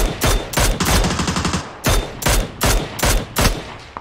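Bursts of automatic gunfire from a shooter video game, several rapid volleys separated by short gaps, loud and close with no talk over them.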